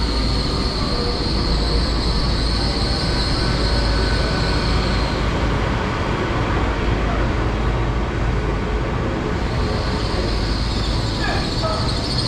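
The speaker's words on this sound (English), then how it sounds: "arriving now, it's the 1543, Great Western Railway service to London Paddington," Great Western Railway Class 802 train pulling into Bath Spa station on a line to London Paddington: a steady, loud rumble of wheels on rail, with faint squeals and clicks near the end.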